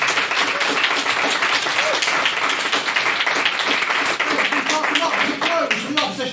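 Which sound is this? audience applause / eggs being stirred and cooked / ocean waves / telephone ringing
audience applause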